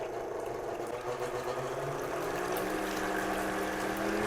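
Electric mixer whipping meringue, a continuous motor whir with a rising pitch as the speed is gradually increased, close and steady throughout.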